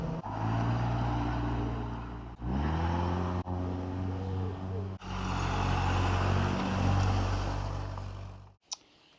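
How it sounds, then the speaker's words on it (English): A Ford Escort Mk3 with a reconditioned automatic gearbox drives along, its engine note rising and dropping as the gearbox shifts smoothly several times, steady and close. "The reconditioned automatic gearbox we put in it just changes gear nice and smooth."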